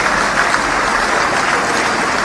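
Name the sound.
audience applause for the minister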